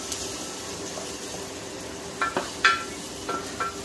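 Onion and garlic sautéing in a pan for pinakbet, a soft steady sizzle with several brighter bursts of crackle and scraping stirs near the end; no talking.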